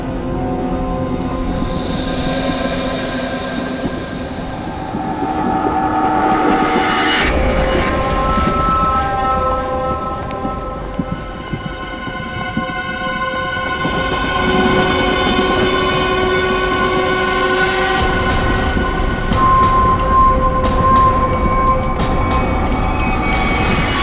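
A passenger train runs loud and close through a tunnel, its continuous rumble carrying squealing wheels and shifting metallic tones that swell and ease across the stretch.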